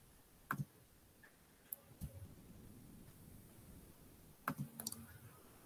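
Sharp mouse clicks on a computer during a Kotlin programming session, a handful of quiet, dry taps scattered over a few seconds, some in quick doubles, against near silence.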